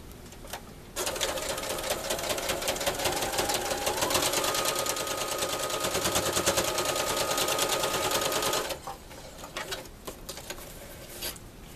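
A sewing machine stitches down the last gap in a quilt binding, starting abruptly and running in a fast, steady rapid-fire whir for about eight seconds before stopping, with quieter ambient noise before and after.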